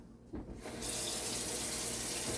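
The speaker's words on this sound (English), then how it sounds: "I'm just gonna rinse up my pot" Water from a kitchen faucet pours steadily into a cooking pot being rinsed, starting with a brief splash and then settling into a continuous, close rushing stream.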